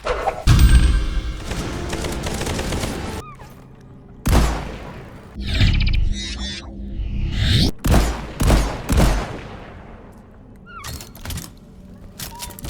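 Shotguns fire in the video game Bright Memory Infinite with several loud, booming blasts spaced a second or two apart, interleaved with mechanical reload clicks and clunks and brief ringing tails.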